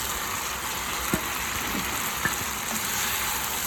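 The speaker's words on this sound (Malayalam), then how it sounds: "ഇനി നമ്മൾ വറുത്ത് വെച്ചിരിക്കുന്ന പനീറും കൂടെ ഇതിലേക്ക് ചേർത്ത് കൊടുക്കാം" Fried paneer cubes stirred into a thick tikka masala gravy in a pan, giving a steady close sizzle with a few soft scraping knocks, no voices.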